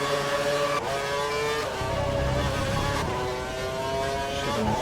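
Formula 1 race car engines scream at full revs in a video game, with a steady high-pitched whine and repeated gear-change pitch drops roughly every second or so. No voices.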